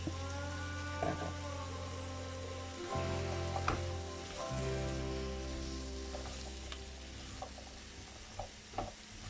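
Butternut squash sizzles in a pan as it is stirred, with low steady frying hiss, occasional scraping taps of the spoon against the pan, and a faint background hum.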